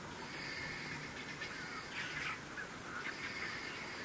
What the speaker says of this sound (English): the guinea fowl, we can hear another group of them calling